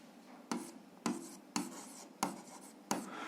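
Pen strokes on paper while working an algebra solution, five quiet scratchy taps and scribbles spaced about half a second apart, close and isolated with no talking.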